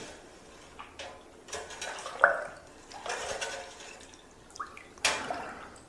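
Fruit cocktail wine must stirred in a fermenting vessel, with intermittent watery sloshes and light knocks of the spoon against the container, fairly quiet and close, no voices.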